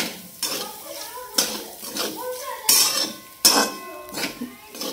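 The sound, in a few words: peanuts added to sabudana in cooking pan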